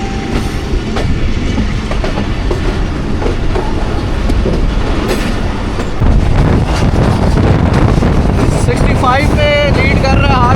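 The Jaffar Express rumbles loudly along the rails between Attock City and Rawalpindi, with steady clattering wheels, a rise in intensity midway and brief squealing near the end, while a voice speaks.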